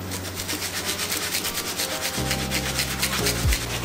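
A brush scrubs a Chicago Jordan 13 sneaker in quick, steady back-and-forth strokes, a close, continuous rasping rub with no talking.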